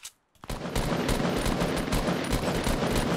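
Heavy automatic gunfire in a Fortnite Battle Royale match starts after a short silence and continues as a dense, loud barrage of rapid shots to the end.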